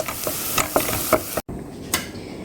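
Chopped onion and smashed garlic fry in a pan for a tomato rigatoni, with a soft continuous sizzle broken by several sharp scraping stirs, one brief dropout, then the sizzle and a final scrape.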